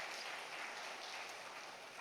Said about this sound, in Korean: 우리 한 박수 한번 칠까요?